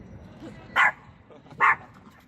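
Two sharp dog barks ring out about a second apart over a low background murmur.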